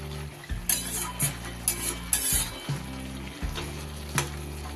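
Spinach and mixed vegetables sizzle steadily in a cooking pan while a utensil stirs and scrapes in repeated strokes, with faint clinks and a continuous bubbling fry throughout.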